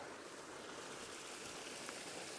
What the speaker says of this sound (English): So you got the water flowing down there